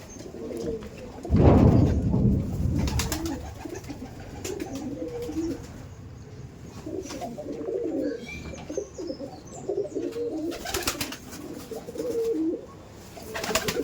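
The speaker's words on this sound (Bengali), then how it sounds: "সমস্ত পায়রা এভাবে বাইরে আছে, এখানে বাইরে আছে, এই সাইডে আছে।" Pigeons cooing repeatedly in and around a loft, several birds close by with soft throaty calls, one loud flutter or thump near the start and a few chirps mixed in.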